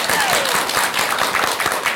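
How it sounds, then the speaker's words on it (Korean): A studio audience on a Korean talk show claps in a short, dense burst, steady and fairly loud throughout. "박수 한번 주세요."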